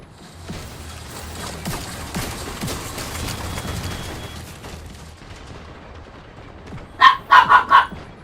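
A dog barks in a shooter video game, with a quick burst of three or four loud barks near the end that follows a stretch of scattered gunfire and action noise.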